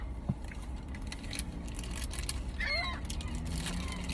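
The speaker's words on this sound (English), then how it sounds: "Love seagulls. These guys are awesome." Seagulls being fed outdoors let out a few brief, faint calls over steady background noise.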